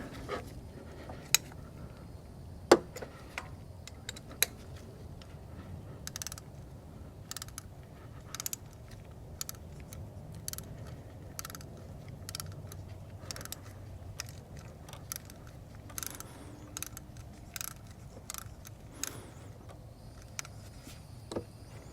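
Steel thread tap being backed out of a stripped spark plug port in an aluminum Toyota 5S-FE cylinder head, giving quiet repeated clicks and ratcheting creaks over a low background hum, with a few sharper ticks.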